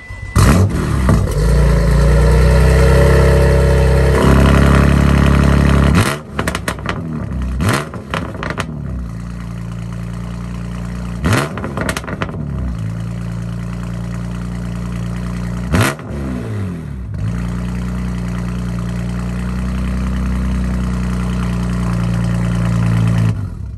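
BMW M2 engine turning over and catching, then settling into an idle broken by several sharp revs that rise and fall, loud and close throughout.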